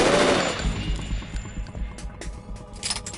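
Rapid gunfire bursts from the video game Metal Gear Solid 2, a loud opening volley that settles into continuous machine-gun rattle with scattered shots, heard without talk.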